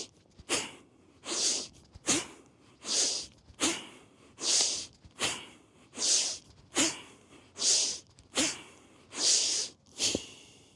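Forceful rhythmic exhalations during two-handed kettlebell swings, about ten sharp breaths roughly a second apart, each a loud close-up hissing burst with brief quieter inhales between.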